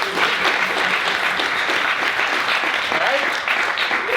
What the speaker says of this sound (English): round of applause for everyone who identifies as an actor